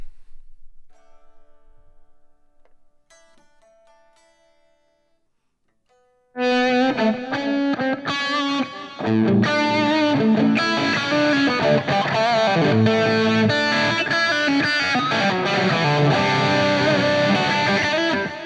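Quiet, sparse guitar notes at first, then a loud, dense electric guitar through a Fractal preset with compulsion distortion kicks in and plays steadily with thick, saturated chords.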